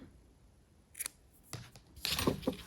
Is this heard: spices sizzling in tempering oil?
no